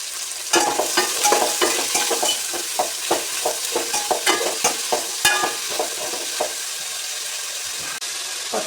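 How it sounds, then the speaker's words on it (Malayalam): Onion, ginger and garlic sauté with salt in a pan for a Kerala chicken curry, giving a steady close sizzle broken by quick, repeated stirring scrapes that thin out near the end. "ഉപ്പിട്ട് കൊടുത്താൽ ഉള്ളി വേഗം വഴന്ന് കിട്ടും"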